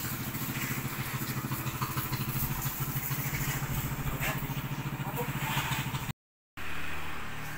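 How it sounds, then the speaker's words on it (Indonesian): Yamaha Scorpio Z motorcycle, modified trail supermoto style, fitted with a Nobi aftermarket exhaust, idling with a steady, rapid low-pitched putter close by, briefly cutting out before resuming. "suara dari knalpot nobi harga 300-an"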